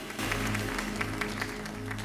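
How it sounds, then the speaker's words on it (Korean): A church congregation at a young adults' worship service claps together, a dense, steady applause holding evenly throughout with a low sustained tone beneath. "우리 함께 하시고 우리에게 역사하실 주님 앞에 영광의 박수 올려드리겠습니다."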